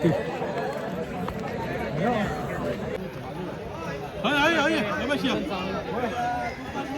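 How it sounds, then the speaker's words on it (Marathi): A dense crowd chatters at the Ghodemukh fair, a rural village jatra: many overlapping voices form a steady, close babble, with individual voices rising above it now and then. "गर्दी बघू शकतात कितकी हा"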